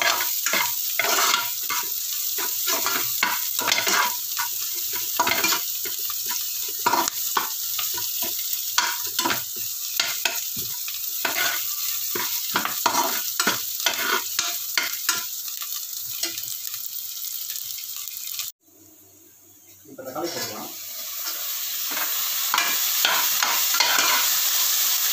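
Tomatoes sautéing in a pan for mutton biryani: loud continuous sizzle with repeated stirring scrapes, cutting out briefly near the end before resuming, with no talk.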